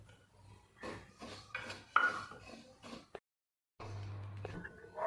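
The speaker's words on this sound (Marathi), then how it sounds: "आता याच्यात मी जिरी भाजून घेते जिरी आणि शहाजिरी मी एकत्रच भाजणार आहे" Cumin and caraway seeds dry-roast in a pan, with scraping and rattling of a utensil against metal in uneven strokes, a voice talking over parts of it and a brief gap of silence.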